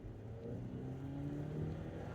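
Volkswagen Golf GTI engine revving steadily under hard acceleration, a low, rising drone heard from inside the car, fairly quiet and continuous with no talking.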